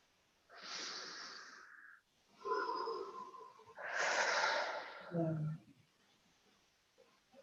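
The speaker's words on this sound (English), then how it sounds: "And take another deep breath." Several slow, deep breaths, loud hissing inhales and exhales a couple of seconds each, close to the microphone, with a brief murmured voice near the end before fading to quiet.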